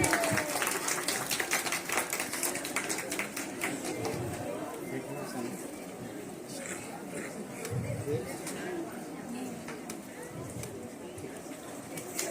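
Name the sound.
loud applause at retirement ceremony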